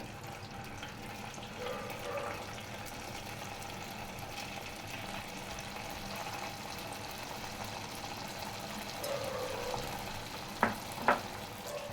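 Idli pieces frying in hot oil, a soft continuous sizzle and bubbling close by, with faint stirring scrapes and two brief louder clinks near the end.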